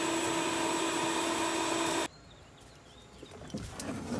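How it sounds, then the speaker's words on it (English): A vacuum cleaner whines loudly and steadily during cleanup on a no-heat furnace service call, then shuts off abruptly partway through, leaving a quiet room with faint rustling and small knocks. "finish his vacuum job there"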